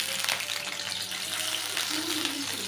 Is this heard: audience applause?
no